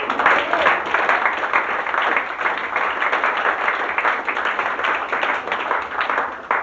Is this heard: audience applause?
yes